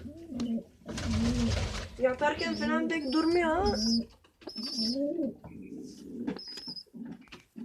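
A pigeon coos nearby in soft repeated calls, with people talking over and around it throughout.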